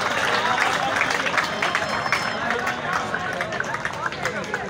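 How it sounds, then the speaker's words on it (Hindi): A crowd at a college boys' volleyball match in Mianwali claps in a dense, lively burst of applause mixed with cheering and babble, a voice talking over it. "तालियां होनी चाहिए इनके लिए"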